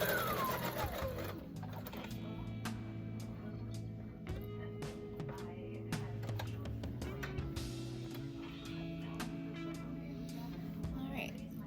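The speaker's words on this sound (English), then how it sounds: "I'm going to go ahead and do this hem on the sleeves" Sleeve hems of a homemade Thanksgiving dress run through a sewing machine in short stop-start bursts of whirring, with clicks and handling taps between, close by while someone talks over much of it.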